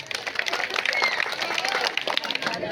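An audience at a felicitation during a Manteswamy Katha Prasanga folk drama performance breaks into brisk, dense applause that fills the short moment evenly, loud and close.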